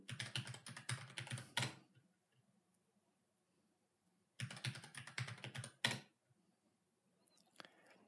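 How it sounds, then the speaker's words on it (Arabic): Terminal command typed on a computer keyboard while installing software on Ubuntu, heard as two close bursts of rapid, fairly loud key clicks with a pause of near silence between them and a few faint taps at the end. "راح اكتب امر واحد فقط لا غير اللي هو sudo make install"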